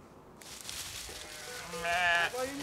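A sheep in an earthquake-damaged village in winter gives a loud, wavering bleat close by, rising toward the end of a short stretch of quiet rustling.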